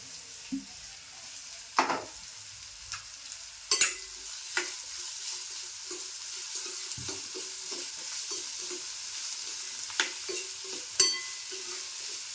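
Onion frying in a pan for a tomato chutney, with a soft continuous sizzle close by and occasional sharp scrapes and clatters as the pieces are stirred.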